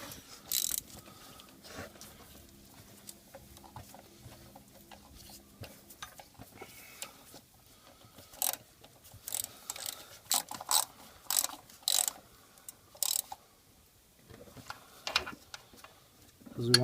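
A hand ratchet clicks in short bursts while snugging the four water pump bolts on a Chevy Impala SS, crisp close ticks separated by pauses, with quiet mechanical handling in between.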